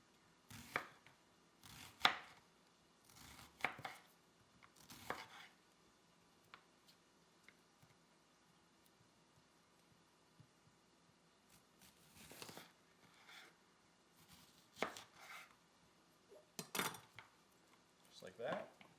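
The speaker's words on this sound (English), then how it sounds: "We're just going to cut these into thin strips." Knife chopping food into thin strips on a board for Peruvian ceviche, in bursts of quick close rhythmic chops separated by quiet pauses.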